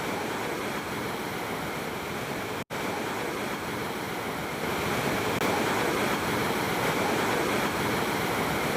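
Water from an opened gate of the KRS dam near Srirangapatna in Mandya district rushes in a loud, continuous broadband roar. The roar cuts out for an instant partway through, then carries on.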